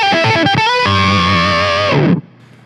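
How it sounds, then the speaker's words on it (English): Heavily fuzzed electric guitar with an octave effect from a Pigtronix Disnortion pedal: a few quick staccato notes, then one loud sustained note that rings thick and buzzy before stopping abruptly. "You turn on the fuzz and it gets a little crazy."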